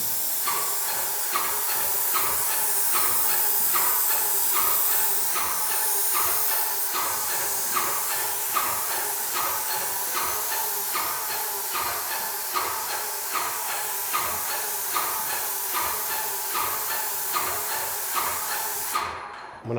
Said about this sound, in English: Looks like it's spraying out pretty good.